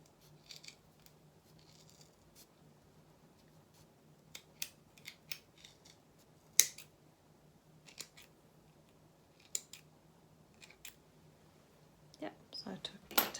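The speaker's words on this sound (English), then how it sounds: "so I cut out a little heart shape" Scissors snip through folded red felt to cut out a small heart shape, giving a series of quiet, scattered clicks and crisp snips that grow denser toward the end over a faint steady hum.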